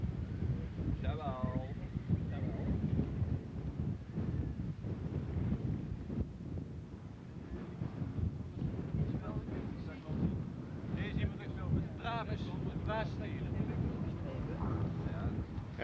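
Outdoor summer wind buffets the microphone in low rumbling gusts while people talk in Dutch over it.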